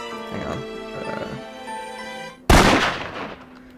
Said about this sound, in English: Distant sounds of banging noises drown out Miss Marine's words.